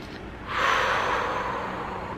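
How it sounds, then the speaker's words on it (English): A single deep, slow breath during a grounding and centering exercise, quiet and close, drawn in then let out steadily with no talking. "Okay, breathing through that,"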